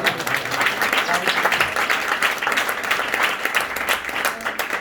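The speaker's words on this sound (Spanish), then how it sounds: "fort aplaudiment pel Xavi, que està per totes" A live audience applauds a performer named Xavi at a stage show, steady dense clapping throughout at an even, fairly loud level.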